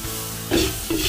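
Ground pork sizzling and frying in a pan for sotanghon guisado, with a steady close-up crackle and two louder bursts of stirring scrapes partway through.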